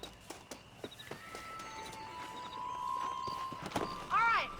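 In the Red Dead Redemption video game, a horse clip-clops along a ranch trail toward a cattle pen, soft irregular hoof thuds under game music tones and a voice speaking, ending in a short rising whinny.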